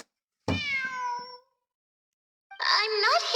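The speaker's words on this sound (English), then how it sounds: "It really is a cat." A cat meows twice in the video game Genshin Impact, a drawn-out clear mew followed after a pause by a brighter, more strained cry, loud and close.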